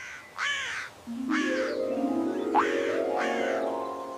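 Crow calling outdoors, four harsh caws in a slow irregular series, loud and fairly close, with a rising croaking tone running beneath the later calls.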